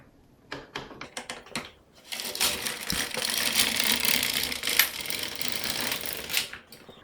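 A knitting machine carriage knits a row while making a cushion cover. A few sharp mechanical clicks come first, then a sustained close clattering whir as the carriage slides across the needle bed, ending with more clicks.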